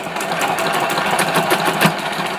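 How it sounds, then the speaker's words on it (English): A Singer Promise sewing machine sews on a button, its needle running in a fast, steady mechanical rhythm, close and loud, with no talking. "we can then apply pressure to the foot plate and sew on the button"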